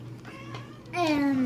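A voice imitates a cat, ending in one drawn-out, falling meow that is close and fairly loud after some quieter vocal sounds.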